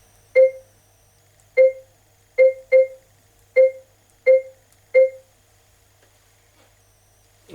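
Key beeps from a Pioneer AVIC-F930BT double-DIN car navigation touchscreen while a name is typed: seven short, clear tones at uneven intervals, with two in quick succession, close and alone over a faint hum.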